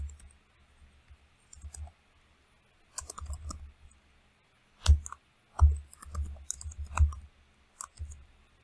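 Typing on a computer keyboard while setting up robot motors in simulation software, close, sparse clicks in short bursts separated by silent pauses, with a few sharper isolated key presses.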